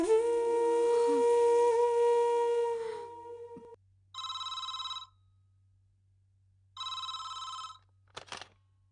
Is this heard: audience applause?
no